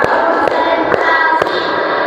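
Four evenly spaced, crisp claps from a group of classroom pupils, struck together in a steady rhythm over constant background hum.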